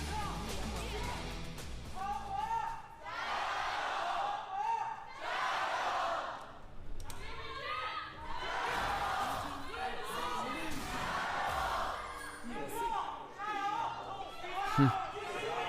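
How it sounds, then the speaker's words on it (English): An esports arena crowd at a League of Pro League match chants rhythmically for Weibo Gaming in repeated swelling bursts, loud and reverberant, with a commentator talking over parts of it. "Two different people calling for Weibo."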